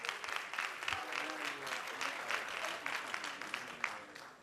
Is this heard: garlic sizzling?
no